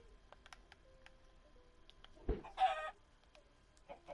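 Chicken in the video game Dreamkraft giving a short burst of clucking after a soft thump, near and brief over a quiet background.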